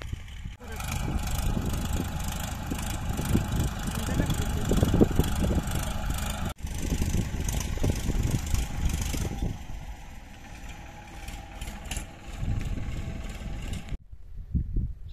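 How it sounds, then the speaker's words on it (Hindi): A tractor engine drones and idles while ploughing an open field, rising and falling in rough bursts, with a sharp cut midway and a brief drop near the end. "ट्रैक्टर में जुताई हो रहा है"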